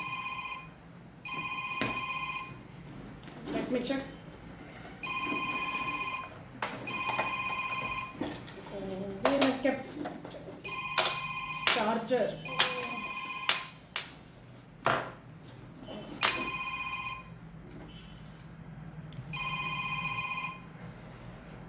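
Mobile phone ringtone at an indoor group event, repeated bursts of electronic ringing pattern with a person talking briefly in between, moderately loud and close.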